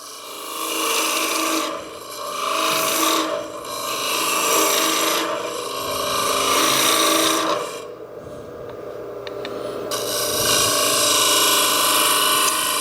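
Gouge cutting a wooden tulip bowl on a lathe, a steady loud rasping scrape in long sweeping passes with brief dips between cuts and no talk.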